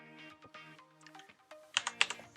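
A few computer keyboard keystrokes click sharply near the end, preceded by faint clicking and tonal interface sounds while CAD dimensions are entered.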